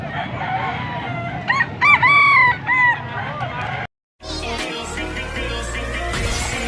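A rooster crows loudly nearby amid clucking chickens at a chicken market in Angeles City, Pampanga, then after a brief silence a busier scene of bird calls and background noise continues.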